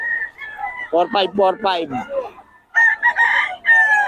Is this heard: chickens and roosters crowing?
yes